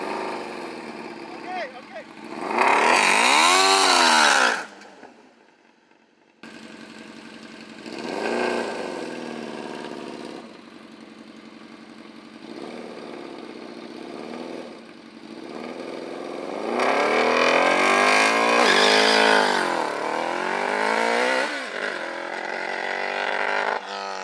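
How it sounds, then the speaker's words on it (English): A 170 HP lawnmower engine revs hard in several loud bursts during burnouts on glued asphalt track, dropping back to a rough idle between them, with spinning-tire roar during the peaks. "The lawnmower wasn't hooking at all on bare asphalt, so we tried doing burnouts and launches on track glue"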